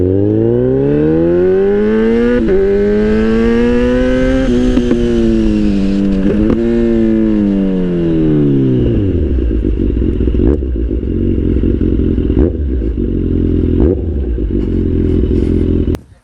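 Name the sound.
Kawasaki Z800 motorcycle being ridden and parked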